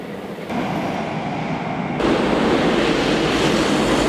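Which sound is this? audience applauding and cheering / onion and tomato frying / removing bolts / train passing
train passing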